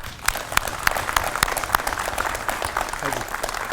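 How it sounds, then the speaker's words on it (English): Graduation audience clapping together after a call for a round of applause, a dense wash of many hands with sharp individual claps standing out, steady and fairly loud throughout. "Please, round of applause."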